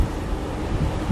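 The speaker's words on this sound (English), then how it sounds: "It's very windy" Strong wind gusts buffet the microphone outdoors in a cold, sheltered garden spot, a brief, loud, rough rumble with no voices.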